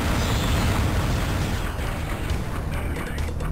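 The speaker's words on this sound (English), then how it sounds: "Random mega missile just coming in for the sneak attack there." A mega missile explodes in the game Descent, a loud sustained low rumbling blast that fills the whole stretch and slowly settles without fading out.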